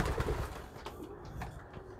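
Pigeons cooing in a loft, soft low throaty coos repeating close by at moderate volume, with faint background noise and no talk.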